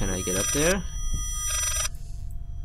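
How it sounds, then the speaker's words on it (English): A telephone bell ringing in the horror video game Layers of Fear, a short bright trill sounding briefly after someone speaks, then fading out. "That was the phone."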